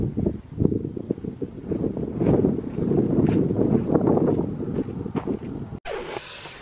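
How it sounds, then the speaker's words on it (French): Wind gusts buffet the microphone outdoors in Death Valley, a low rumbling roar that rises and falls throughout, with a brief cut near the end. "il y a un peu de vent dehors, donc vous n'allez pas très bien entendre"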